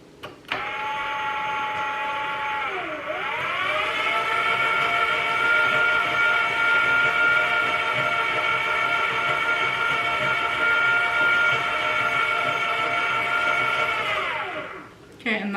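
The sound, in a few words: electric mixer mixing bread dough ingredients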